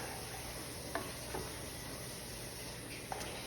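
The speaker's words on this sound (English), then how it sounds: "then you're gonna stir this up" A spoon stirs a simmering pot of food, a few soft scrapes and taps sounding over a steady bubbling sizzle, close and without talk.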